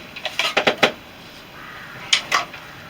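A knife shaves wood while carving a bushcraft tent peg: a quick run of five sharp scraping strokes, a pause, then two more close, crisp cuts.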